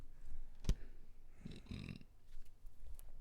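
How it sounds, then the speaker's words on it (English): A single short, low burp from a podcast host during a wrestling review show, one brief guttural pop followed by faint low rumbling noises, quiet and close with no talking. "Had a burp."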